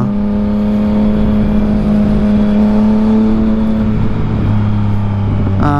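Steady road traffic on a busy street, cars passing close with a continuous engine drone and tonal whir, loud throughout with no pauses.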